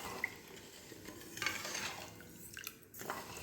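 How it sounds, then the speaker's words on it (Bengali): A spoon stirs sugar into water in a pot while a raw mango chutney is being made, producing soft, close, continuous scraping and swishing with a few light clinks. "চিনিটা জলের সঙ্গে মিশিয়ে দেবো একটু"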